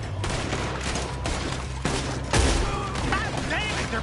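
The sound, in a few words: gunfire in a video game shootout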